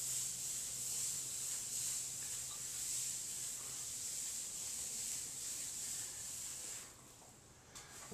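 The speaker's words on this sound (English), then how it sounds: "we're going to scrub lightly the entire area that we just grouted" A wet sponge scrubs lightly over freshly grouted bathroom tile in a restroom remodel, giving a steady, soft, hissing rub that continues evenly and fades near the end, with no talking.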